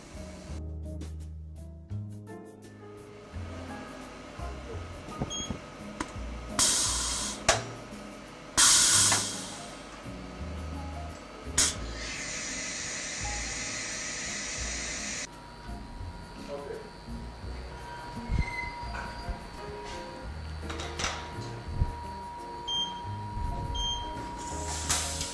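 A freeze fracture device at a structural biology lab hisses and whirs under vacuum, with bursts of steady hiss, mechanical clunks and rising and falling tones, and a voice speaking over parts of it.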